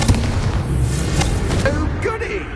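A Confringo blasting spell explodes in the video game Hogwarts Legacy, a booming burst with crackling follow-up blasts, heard close and loud under a speaking voice.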